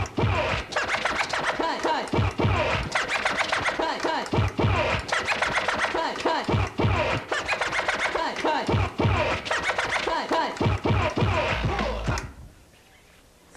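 Rapid DJ double-cut scratching, two records worked back and forth on turntables, producing dense rhythmic zipping scratches over a beat, loud and continuous before cutting out near the end.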